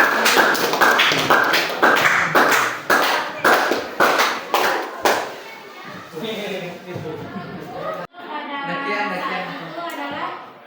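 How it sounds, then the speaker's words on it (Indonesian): Audience in a classroom lesson clapping in a series of loud, sharp bursts that thin into a scattered patter, with talking under and after the applause. "Kita beri aplaus buat beliau."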